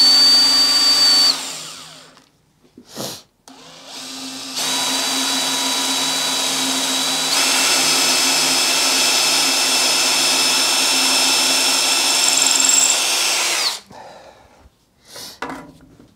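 A power drill whirs steadily for about ten seconds, close and loud, after a few short bursts and before stopping into brief rustling.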